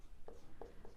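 Chalk or marker writing on a board during a class 6 maths lesson on fractions, three short scratchy strokes in quick succession, close and fairly faint, with no talk over them.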